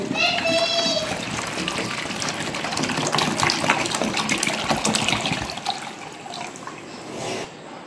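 Water pours and splashes steadily into a cooking pot, about four to five cups, while a voice talks over it, the gushing easing off near the end.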